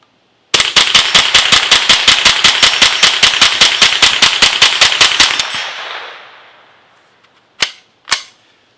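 Supersonic .22 rounds fired quickly in semi-auto through an Optimus Micro suppressor: a loud, even string of about thirty sharp cracks that rings out and fades, then two more separate shots after a pause.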